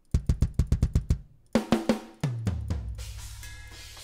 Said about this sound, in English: I use the Getgood Drums Periphery 5 Signature Pack.